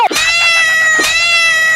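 A cat in a comedy skit gives two loud, close, drawn-out meows about a second apart.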